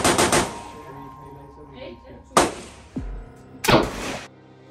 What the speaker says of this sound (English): we're going to be shooting an AK-47